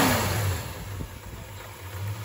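A 1968 Dodge Charger with a 383 big-block V8 runs nearby after a low idle adjustment, giving off a deep, steady engine rumble. The rumble softens slightly after a brief opening rev and then holds even.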